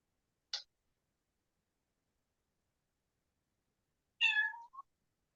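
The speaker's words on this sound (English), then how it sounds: "My cat is extremely upset right now." Upset cat meowing, a brief faint chirp followed a few seconds later by one longer, louder complaining meow, both alone against silence.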